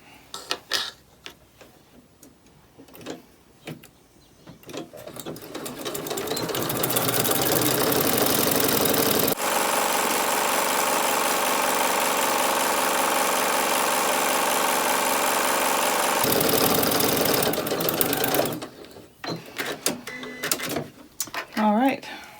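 Sewing machine stitching a small fabric-scrap keychain fob, a loud even motor hum and needle patter running for about ten seconds between scattered clicks and handling noises at the start and end.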